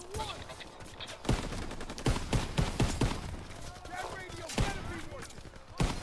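Gunfire during a World War II aerial dogfight mission in Call of Duty WW2: rapid, repeated cracks of machine-gun bursts at close range, with a voice talking between the shots.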